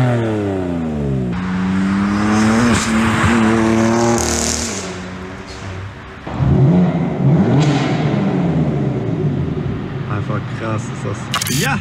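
A BMW M4 tuned by G-Power to 600 PS revs and accelerates loudly, its engine tone climbing and falling in repeated sweeps with sharp bursts, close by, while a voice talks over it.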